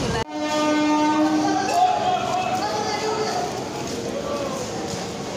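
A passenger train runs steadily with a continuous loud rumble and sustained horn-like tones, with voices faintly audible in the carriage.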